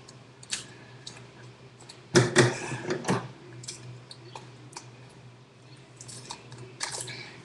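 Scissors trim candy wrappers with a handful of crisp snips and crinkly paper rustles, a loud cluster of cuts near the middle and quieter clicks scattered around it, up close.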